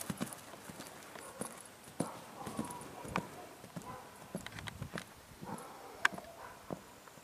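Hooves clop steadily on hard ground in an irregular walking rhythm, fairly close, with occasional louder knocks and faint background noise.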